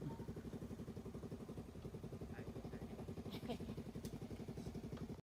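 A motorcycle in a Thai longan orchard chugs close by with a steady, rapid low throb, rising slightly toward the end before cutting off abruptly, while faint voices murmur underneath.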